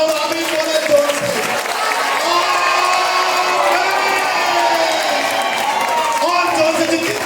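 A church congregation at a Sunday Holy Communion service claps and shouts amen together, a loud, sustained wash of clapping, cheering and voices filling the room without a break.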